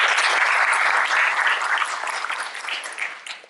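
Audience applause fills a seminar hall after a talk on personal branding with social media: dense, steady clapping from many hands that holds strong, then thins and fades near the end.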